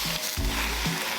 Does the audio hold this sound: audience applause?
no